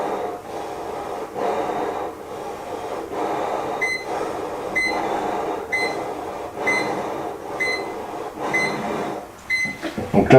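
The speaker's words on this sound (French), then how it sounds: "Donc là, vous entendez une alarme qui se met en route." A formaldehyde detector's alarm beeps repeatedly in short evenly spaced pulses, loud and close, with heavy breathing into the device between the beeps.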